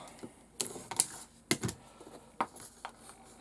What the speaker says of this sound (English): Light scoring, and cut it off